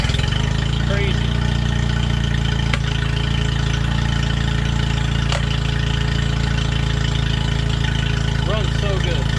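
A Yamaha 25hp outboard motor idles steadily up close, a continuous low, even drone with no pauses across the whole stretch.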